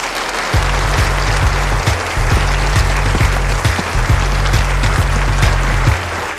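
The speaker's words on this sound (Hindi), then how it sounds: "तालियों से स्वागत किया जाए।" An audience claps to welcome an international referee before a table tennis match, sustained loud applause with dense clapping throughout and a few sharper individual claps standing out.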